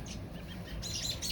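A parent bird chirping near a fallen baby bird outdoors, a few short high chirps rising over low background noise, fairly close and without talk.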